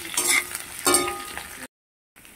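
Long slices of eggplant sizzle and fry in a pan while being stirred, with dense close scraping and crackle in two bursts, then a sudden cut to silence before quieter frying resumes.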